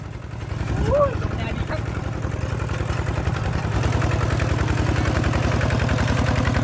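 A small tractor's diesel engine chugs steadily nearby with a rapid, even knock, while someone talks over it.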